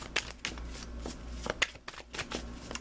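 Madame Endora's Fortune cards are shuffled for a tarot reading, a series of quick, crisp riffling bursts at close range with short pauses between them. No one speaks.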